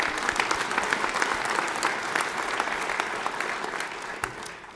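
A dense, even burst of audience applause fills a hall, many hands clapping steadily at close range with no pause.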